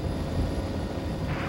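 A helicopter in radio contact over salmon-fishing country on the Exploits River, its steady low rotor and engine drone filling the sound alone without any voices.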